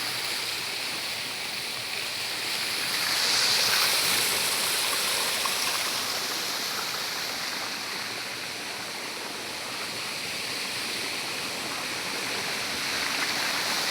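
Steady rushing of a clear stream on a farm lot in Nagcarlan, Laguna, a continuous broad hiss with no voices, moderately loud and even throughout.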